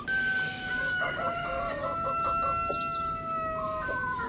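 Chickens on a hot summer farm cluck and crow close by, with a steady stream of calls over constant background noise.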